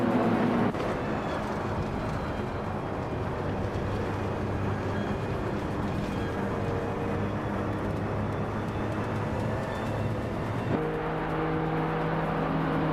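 Race car engines drone steadily in a racing game, a continuous dense roar of several cars running together, with a sudden change in engine tone near the end.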